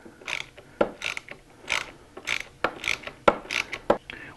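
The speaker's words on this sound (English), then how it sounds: "And all I'm trying to do here is take this nut off." Close metallic ratcheting and clicking while a nut is worked off the crankshaft of a Rotax 582 engine during a teardown, several short bursts with sharp clicks in between, no talking.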